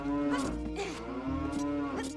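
A cow moos in Ocarina of Time, a long low synthesized bellow that stays loud and close for about two seconds, without any talk over it.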